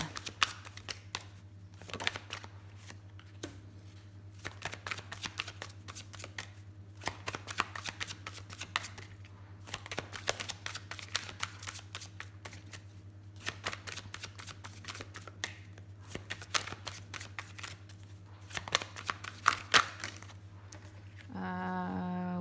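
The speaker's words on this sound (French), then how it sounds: "Mais les cartes tombent par terre." Tarot cards are shuffled up close in a quiet room, a steady run of soft riffling flicks and slaps, with a few cards dropping to the floor under a low constant hum.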